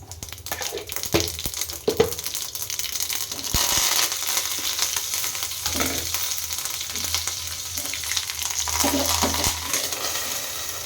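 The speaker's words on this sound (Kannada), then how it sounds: "ಒಗ್ಗರಣೆಗೆ ಸಾಸಿವೆ" Mustard seeds crackling in hot oil for tempering, a continuous sizzle with scattered pops and stirring clatter throughout, close and fairly loud, no talking.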